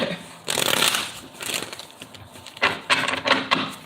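Tarot cards are shuffled in several quick riffling bursts, crisp and close, with short pauses between them.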